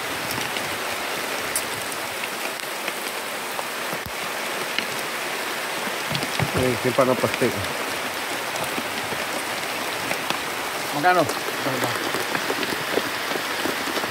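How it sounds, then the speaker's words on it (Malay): Heavy rain pours steadily at a river, a dense, loud hiss that never lets up, with a few short voices speaking briefly beneath it. "Gila hujan."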